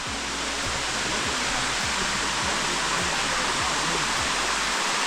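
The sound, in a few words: waterfall at Sticky Waterfalls, Chiang Mai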